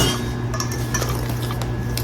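Cornbread batter is stirred in a bowl with a utensil, giving brisk close scraping and clinking taps against the sides in a quick uneven rhythm, with no voices.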